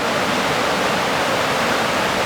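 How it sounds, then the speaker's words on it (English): A small creek flowing during trout season, a dense, steady rushing of water that stays loud and close throughout with no pauses and no voices. "look at this last little creek, eh? A lovely little stream."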